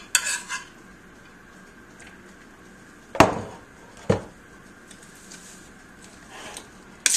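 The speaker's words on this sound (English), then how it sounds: "So I'm going to just start stirring that all in together" A spoon stirs brown rice into portobello curry sauce in a bowl, with scattered scrapes and a few sharp clinks of utensil against the dish, close up and quiet between the knocks.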